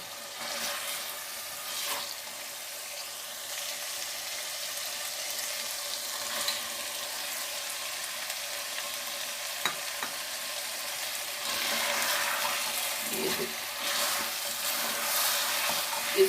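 Okra goes into a pan of frying mutton, a soft continuous sizzle with occasional stirring scrapes and clinks, the frying growing a bit louder in the latter part, close and without talk.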